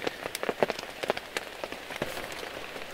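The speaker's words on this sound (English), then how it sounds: "it was raining for a minute there" Rain patters on a camping tarp in a steady, close, crackling spread of drops, with sharper taps scattered throughout and no voices.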